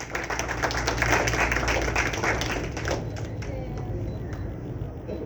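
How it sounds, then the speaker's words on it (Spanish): Audience clapping for a young writer at a book fair reading event, a dense, steady patter of many hands that thins toward the end, with some voices mixed underneath. "Fuerte las palmas, por favor, para Scarlett."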